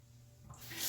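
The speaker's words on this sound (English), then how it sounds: "I'm going to start by putting a little bit of water on my face" Water from a bathroom sink tap runs and splashes as it is scooped onto a face, building from a low hum to a brief bright hiss near the end.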